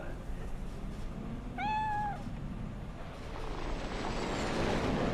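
A cat in the video game Cyberpunk 2077 gives a single clear, rising-then-falling meow of about half a second, over a steady bed of game ambience and low rumble.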